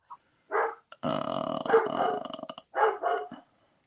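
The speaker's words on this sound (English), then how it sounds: "And my dog's going crazy." A dog barks and growls in several close, rough bursts, a long growling stretch in the middle followed by two sharp barks at the end, with quiet gaps between.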